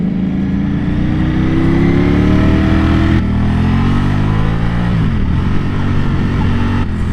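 A Ducati Panigale V4 SP2 sports motorcycle's engine roars loudly and continuously while it is ridden on the road, climbing in pitch through each gear with clear upshift breaks.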